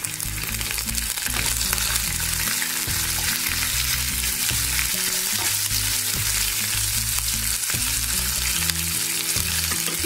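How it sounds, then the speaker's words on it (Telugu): Green chili pieces fry in hot oil in a pan for a buttermilk soup, a dense, steady sizzle with stirring scrapes close by, no voices. "ఇవి కొద్దిగా వేగాక ఈ పచ్చిమిరపకాయ ముక్కలు వేసేసుకుందాం."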